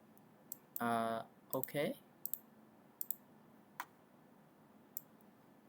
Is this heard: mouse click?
yes